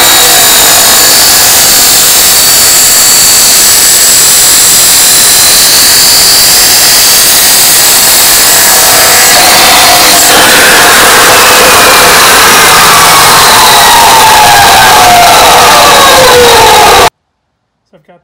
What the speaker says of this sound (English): tubing notcher in my drill press here